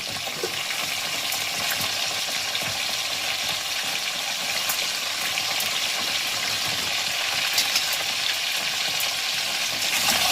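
Potatoes with chopped tomato, ginger paste, salt and spices fry in a pan for Kashmiri alur dom while being stirred. A dense, steady sizzle and crackle with occasional scraping runs throughout, close and without talk.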